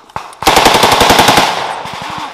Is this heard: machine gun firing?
yes